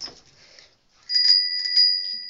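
A tricycle bell rings with bright, sustained metallic tones: a faint ring at first, then a louder ring about a second in that holds and pulses until the end, close and alone.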